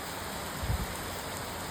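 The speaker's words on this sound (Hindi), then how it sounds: "इस बार आड़ी बारिश हो रही" Slanting rain falls on a balcony as a steady, faint hiss with no talk, one soft low thump near the middle.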